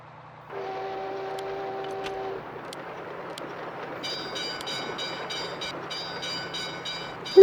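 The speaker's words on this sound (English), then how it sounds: "Let's make a mail train this time around" An all-mail train rolls along in the Lego Loco city-building game, a steady rumble of the rolling train with a short low horn tone early on, then a brighter chiming whistle pattern later, with no speech.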